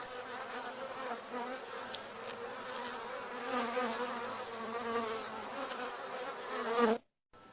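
Honey bees buzz steadily and densely around an open hive during a beginner beekeeping class, a continuous close swarm drone that swells slightly before cutting off abruptly near the end.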